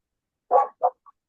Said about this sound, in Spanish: Es el perro, a veces se aparecen animales por ahí y empiezan a ladrar.